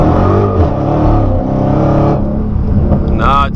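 Dodge Hellcat accelerating hard, its engine roaring loud and close with harmonics climbing and dropping as the tires spin and the transmission upshifts, a voice speaking briefly near the end.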